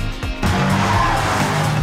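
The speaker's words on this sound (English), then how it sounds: "It's amazing driving the new M5 with Claudia around the Nürburgring" BMW M5 driven hard around the Nürburgring, a loud engine roar with tire squeal and skidding, close and continuous.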